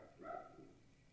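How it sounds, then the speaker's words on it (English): A dog gives a single short bark, faint and somewhat distant, in an otherwise quiet room. "my dog is barking during our live show here"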